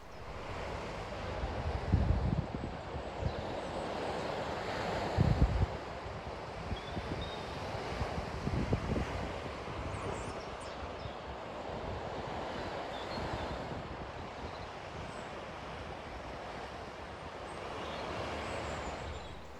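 Steady broadband surf and wind rush on a winter clifftop overlooking the sea, with louder gusty buffets against the microphone near the start and middle, and no voices.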